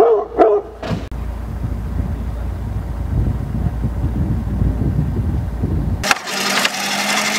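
A dog gives a few short, sharp barks right at the start, followed by a steady low rumble and a burst of noise near the end.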